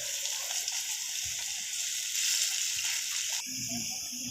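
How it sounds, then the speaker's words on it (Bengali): Chana dal fritters fry in oil in a pan over a wood fire, a steady, even, hissing sizzle at close range with a few soft knocks, shifting slightly in tone near the end. "তো একে একে বড়াগুলো এইভাবে ভেজে নেবো আমি।"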